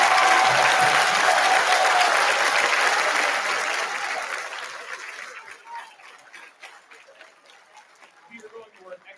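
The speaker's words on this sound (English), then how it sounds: "Let's give our middle school folks another round of applause, please." Applause from an audience at a school winter concert after a middle school performance, loud and sustained clapping that fades out over several seconds, followed by scattered quieter sounds.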